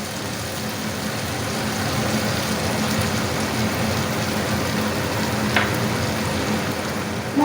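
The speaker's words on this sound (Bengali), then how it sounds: "টমেটো কুচি দিয়ে আমি 1 মিনিট পেঁয়াজের সঙ্গে নাড়াচাড়া করে নেব।" Chopped tomato and onion fry in a pan with a steady, even sizzle that carries on unbroken throughout, with a brief clink near the end.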